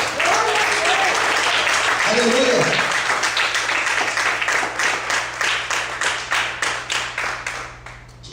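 Church congregation applauding during a sermon: loud, dense clapping with a voice calling out, thinning into distinct rhythmic claps that gradually taper off.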